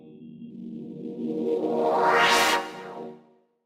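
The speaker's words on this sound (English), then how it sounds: "starting with generating a sound using white noise, using your filter to give it that motion up or up and down" A synthesized white-noise wash made in Ableton Live rises under a filter sweep, brightening steadily to a hissing peak near the end before quickly dropping away, loud and with no voices.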